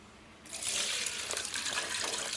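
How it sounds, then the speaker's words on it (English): Water gushes and splashes through a kitchen sieve as bitterleaf is strained for soup, starting abruptly and running as a steady loud pour. "You sieve it out like this with a"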